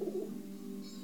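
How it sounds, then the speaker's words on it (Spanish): Soft, low pigeon cooing, a warbling coo near the start that fades into a steady murmur over a quiet background. "paloma."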